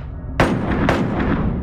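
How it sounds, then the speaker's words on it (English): Two loud, sharp gunshots in the VR shooter game Boneworks, half a second apart, each ringing out with a long echoing tail and no voices. "Oh, you shooting at me?"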